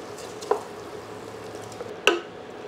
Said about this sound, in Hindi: बस इस प्रकार हम इसको भूनते रहेंगे और करछी चलाते रहेंगे।